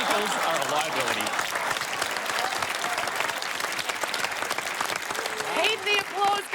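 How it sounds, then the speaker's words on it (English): A studio audience claps steadily and loudly throughout, at an Australian comedy panel show, with a few whoops and voices rising near the end. "Keep the applause going"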